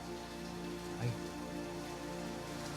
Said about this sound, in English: there is a lot of rain coming down all of a sudden